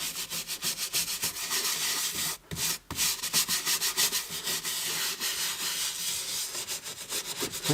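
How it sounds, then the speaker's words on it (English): A brush scrubs foam into the leather interior of a Porsche with continuous rhythmic rubbing strokes, close and steady, broken by a couple of brief pauses. "you also just want to scrub gently, you know, just go gently on the leather"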